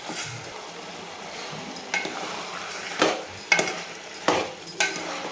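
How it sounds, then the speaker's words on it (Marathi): Mutton sautéed in a pan on a full flame sizzles steadily while a spoon scrapes and knocks against the pan in irregular strokes, loud and close, with no talking. "फुल गॅसवर असं परतून घ्यायचं आहे"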